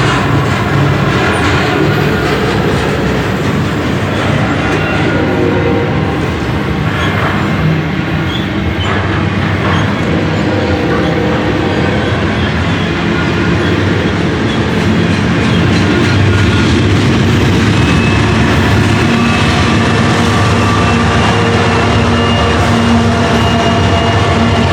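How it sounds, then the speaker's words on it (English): Loud, continuous roar and rumble of a freight train passing close by with a pair of AC44CW locomotives, steady wheel clatter and rail noise filling the whole stretch, in Fremont, Nebraska. "A pair of AC-44 CW CTEs bring up the quote-unquote middle of the train."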